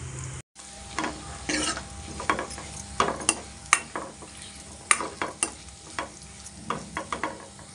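Coriander and chopped tomatoes fry in a pan, with a low sizzle beneath repeated scraping and stirring taps from a spatula, set in an irregular rhythm and heard up close with no talking.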